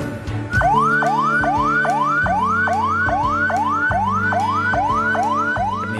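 An ambulance siren in Semarang wails in a steady rising sweep, repeating about twice a second, loud and close, with a continuous tonal drone underneath and no talk.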